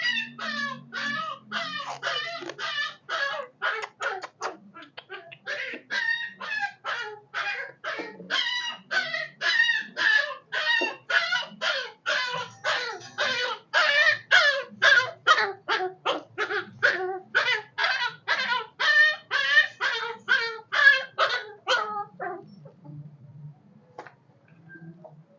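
A puppy whimpers and yips close by in a long, rapid series of high, strained cries that keep a steady rhythm for over twenty seconds, then trail off.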